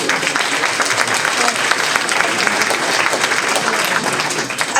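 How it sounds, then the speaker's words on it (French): Evening audience at the Miss Yonne 2024 beauty pageant claps steadily, a dense sustained applause filling the hall from start to finish with faint crowd murmur beneath. "donc on peut encore une fois les applaudir."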